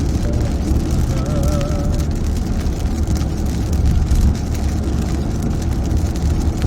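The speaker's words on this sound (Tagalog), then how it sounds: "Magkidlat at ulan," Heavy rain pours during a thunderstorm in Baish, Jazan, Saudi Arabia, a dense continuous roar of drops on surfaces with low rumbling underneath, loud and close, with a faint tonal whine early on.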